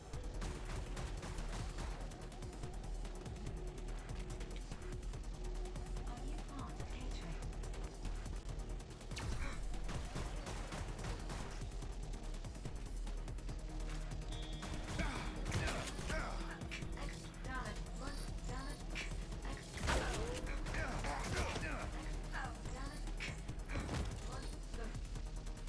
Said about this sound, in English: how am I out of bullets for the automatic assault rifle